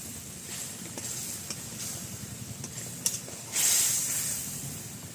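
Pomfret fish fry in a pan with salt and turmeric, a close, steady sizzling hiss with scattered crackles and a louder burst of spitting toward the end, with no talk.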